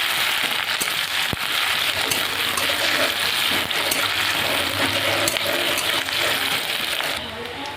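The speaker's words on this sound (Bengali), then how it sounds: "পেঁয়াজটা একটু ভাজা ভাজা হয়ে গেছে" Chopped onion with cumin frying in oil in a kadai for a cabbage dish, a dense steady sizzle with occasional sharp clicks of stirring, close and continuous, easing slightly at the very end.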